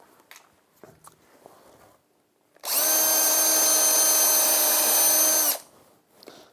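A power drill drives screws into timber on a diagonal, one loud continuous whine of about three seconds with steady pitch, preceded and followed by quiet handling noises.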